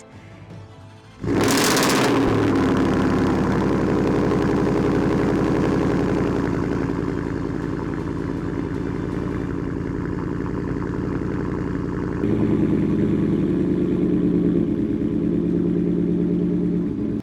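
A supercharged 775-horsepower 2022 Ford F-150 pickup with a Whipple supercharger and Borla Attack exhaust roars to life and settles into a deep, rumbling idle with a throaty exhaust note, steady and close throughout.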